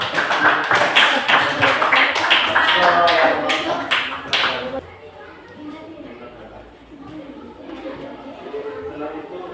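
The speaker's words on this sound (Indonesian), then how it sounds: "Kita berikan tepuk tangan untuk teman kita" Classmates clap for a fellow student in a classroom, a burst of brisk applause that lasts about five seconds, then gives way to quieter murmuring chatter.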